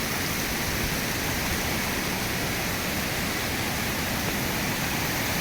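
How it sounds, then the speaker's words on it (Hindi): Himalayan waterfall in Uttarakhand, water pouring steadily down toward the Alaknanda river, a dense, continuous roar, loud and close, with no pauses. "यहाँ झरनों से जो पानी आ रहा है"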